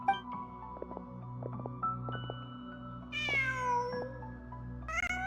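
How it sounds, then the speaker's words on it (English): A cat meows twice in a video game, high drawn-out cries rising over a steady background music drone, fairly close and clear with no talk. "Just a cat."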